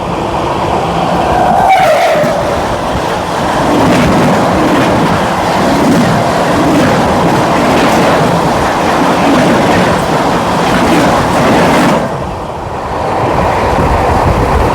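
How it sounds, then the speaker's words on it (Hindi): Two trains cross at speed, the Barmer Howrah Express rushing past alongside the Odisha Sampark Kranti: a loud, steady roar of wheels and wind with rhythmic clattering, heard up close from inside a moving carriage. "दोस्तों हमारी क्रॉसिंग होने जा रही है 15631 बारमेड़ हावड़ा एक्सप्रेस के बीच"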